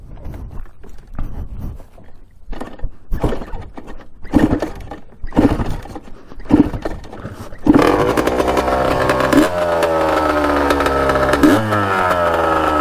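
Kawasaki Tecate 250cc two-stroke engine, first sputtering and popping in irregular bursts, then catching and running loud with a raspy, sustained buzz that rises in pitch.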